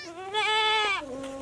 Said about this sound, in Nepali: यतिका धेरै बाख्रा पाल्नु भएको रहेछ